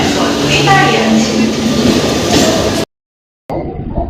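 Howrah–Haldia local train at a station platform, a steady loud rumble of rolling stock with some squeal and hum, cut by a brief gap of silence, voices faintly mixed in.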